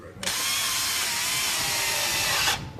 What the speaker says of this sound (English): Oh, drilling.